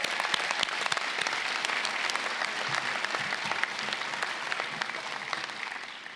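A graduation ceremony audience applauds the marshals, volunteers and photographers, with dense, sustained clapping from a large crowd that carries steadily throughout and eases slightly at the close.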